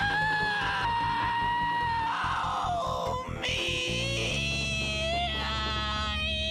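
A voice imitates a banshee scream: a loud, strained, wavering shriek with shifting pitch, broken by brief grunting catches midway before rising into a sustained screech.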